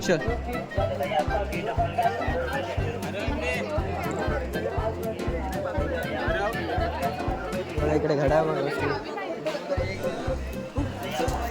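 Dense crowd chatter fills the Ratnagiri Ekadashi yatra fair, a steady babble of many voices close around, with a nearby person talking over it throughout.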